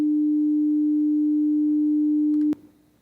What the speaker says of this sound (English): if we have an instrument called tone, all it's going to do is emit a sine wave of the specified frequency.